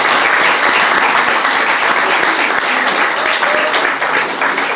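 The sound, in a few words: audience applause for a football freestyler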